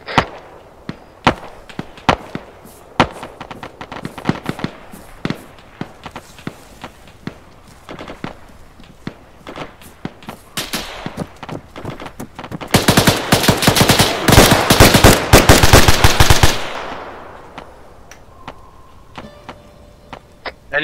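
Airsoft gunfire across a field exercise: scattered single cracks and short bursts build into a dense, sustained volley, then thin out again, loud and close with little talk.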